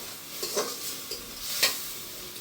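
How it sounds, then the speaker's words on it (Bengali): Spice paste for a chicken curry is stirred and fried in a pan with a little water, giving a soft steady sizzle broken by a few scraping spatula strokes and light clinks, close and fairly quiet, no voices. "এখন ভালো করে মশলা কষিয়ে নেব।"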